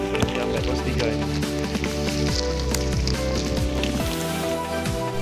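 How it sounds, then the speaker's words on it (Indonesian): Heavy rain pours steadily during a hike on Mount Sindoro in Central Java, a dense continuous hiss that stays loud and even from start to finish, with voices heard faintly underneath. "Jam 12 pas diguyur hujan masih."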